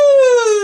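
A singer imitates a siren with a smooth, sustained hoot that glides slowly downward in pitch during a vocal warm-up, rich in overtones, loud and unaccompanied.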